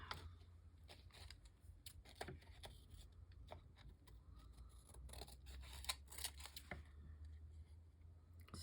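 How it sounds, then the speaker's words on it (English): Scissors snip through paper to trim it into a tag shape for a ring-bound Christmas journal, a quiet, close run of crisp cuts and rustles with no talking. "now we can just trim this off into the tag shape."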